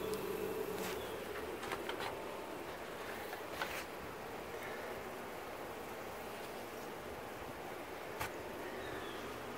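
Straggler honeybees, probably nurse bees, left inside a removed hive give a faint, steady buzz that continues throughout, with a few brief sharper sounds over a low rumble.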